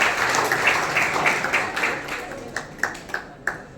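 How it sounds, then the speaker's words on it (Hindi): Audience applause at a Sanskrit award ceremony honoring students, a crowd clapping steadily at first, then thinning into a few scattered louder claps near the end. "तालियां बजाते रहिए।"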